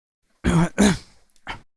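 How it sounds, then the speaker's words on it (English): A single close, dry cough or throat-clear in two quick bursts, followed by a short softer exhale, isolated against silence. "Here on the vocal track, there's a cough I want to remove."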